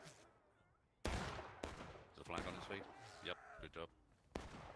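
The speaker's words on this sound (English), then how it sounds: "I see a nice arty shot" Artillery fire in the War of Rights video game, several sharp booming cannon blasts spaced irregularly with rumbling decay between them, while voices talk underneath.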